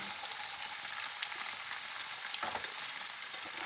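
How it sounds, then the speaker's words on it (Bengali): Split chickpeas (chana dal) frying in a pan with salt while being stirred, giving a steady close sizzle with a few brief scraping stir sounds near the end. "এগুলো একটু নেড়ে চেড়ে ভেজে নিচ্ছি"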